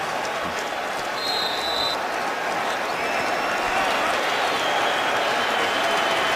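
Football stadium crowd at an Eagles–Jets NFL game cheering in a dense, continuous roar that swells slightly, with a short whistle-like tone near the start.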